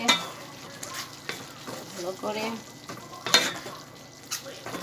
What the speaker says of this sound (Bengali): এটা ভাজা ভাজা করব